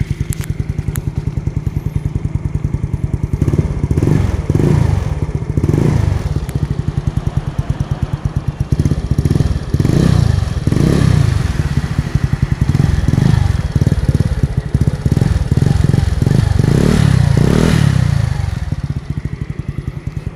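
A Yamaha Mio Soulty scooter fitted with an Exos RX7 exhaust pipe runs close by, its engine rumbling steadily and swelling in repeated revs for about twenty seconds, loud and alone.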